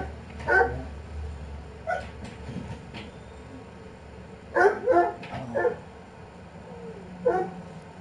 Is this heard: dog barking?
yes